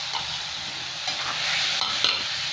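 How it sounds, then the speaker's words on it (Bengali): Potatoes, aubergine, tomato and ginger paste with spices stir-fry in a pan, a steady close sizzle with a few soft scrapes as the vegetables are turned. "এবার একসাথে ভালো করে কষিয়ে নেব এই মশলাগুলো।"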